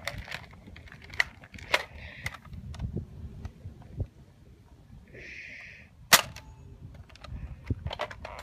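A Nerf Strongarm blaster firing foam darts outdoors, a handful of sharp separate pops and clacks spaced a second or more apart, with some mechanical priming noise between shots.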